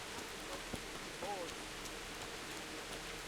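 Steady in-game rain from Kingdom Come: Deliverance falls as a continuous hiss over a street scene, with faint background voices and a brief tonal chirp partway through.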